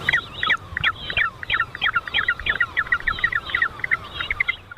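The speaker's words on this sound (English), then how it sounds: "Finally, step up the hoi-haw, referred to by some unkind observers as a smelly penguin." A hoiho, the yellow-eyed penguin of New Zealand, gives a shrill, rapid run of repeated squealing call notes, loud and close, pulsing steadily for several seconds without talk.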